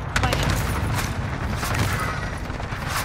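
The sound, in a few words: stun grenade blast in Call of Duty: Modern Warfare video game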